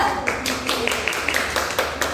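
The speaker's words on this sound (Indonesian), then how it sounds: "Beri tepuk tangan untuk kelompok 2." A classroom audience claps for group 2 after a poster presentation on complete and incomplete metamorphosis, a handful of sharp, separate hand claps scattered over a steady room murmur.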